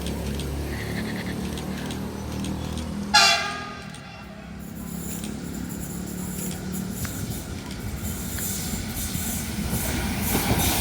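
A 12-car commuter train bound for Bogor arrives at a platform at Juanda station in Jakarta, sounding a sharp horn blast early, then rumbling steadily as it rolls in.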